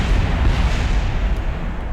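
A test rocket explodes in a space-program video game, a loud, dense rumbling blast that roars continuously for about two seconds with no voices.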